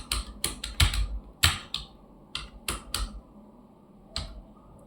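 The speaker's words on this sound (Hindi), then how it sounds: "तो अभी हम यू लिखेंगे और फिर से टाइप करते जाएंगे" Computer keyboard keys are struck in quick, uneven bursts of sharp clicks during a typing test, with short pauses between clusters, close and clear and free of speech.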